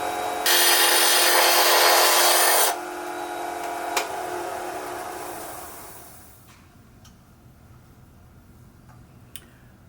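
A wood lathe spins a tippy top at about 2500 RPM, opening with a loud, bright whirring rush for a couple of seconds, then settling into a quieter spinning hum that fades away, broken by a few faint ticks.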